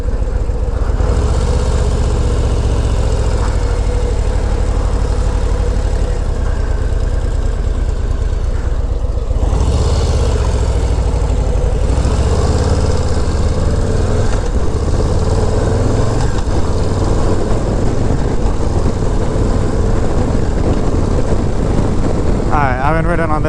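A Harley-Davidson Low Rider ST motorcycle engine on the move along a road: a loud, continuous low rumble with wind roar that shifts in pitch as it accelerates, and a voice speaking over it throughout.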